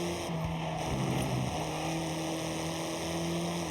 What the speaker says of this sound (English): I don't quite like the sound the engine's making